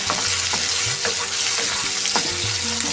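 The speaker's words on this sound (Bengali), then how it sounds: "পেঁয়াজটা একটু লাল করে ভেজে নিতে হবে" Onions sizzle steadily in a hot pan, with occasional scrapes and clinks of stirring over the constant frying hiss.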